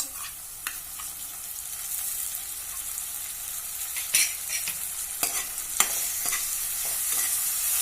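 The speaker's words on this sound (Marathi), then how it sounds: "परतून घेऊया" Onion, green chilli and soaked moong dal sauté for a Konkani-style radish-leaf dish, producing a bright, hissing sizzle that builds over time, with the irregular knock and scrape of a spatula stirring and no one talking.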